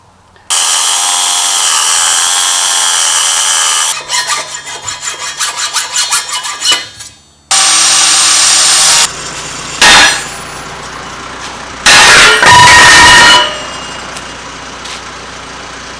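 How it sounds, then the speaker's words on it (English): An angle grinder fitted with a big cutoff wheel cuts through metal while building a Holland mulch pot planter, a loud harsh continuous screech broken by pauses, sputtering stretches and restarts, close and alone. "putting on a big old cutoff wheel on my grinder."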